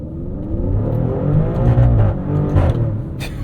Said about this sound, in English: this car will hold gears and bounce off the rev limiter, which does also make a really cool sound